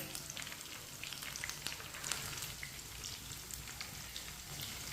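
Chicken pieces fry in hot oil with a soft, steady sizzle and scattered crackling pops, quiet and continuous throughout with no voices.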